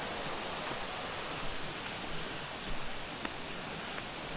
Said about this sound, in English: We got a waterfall there.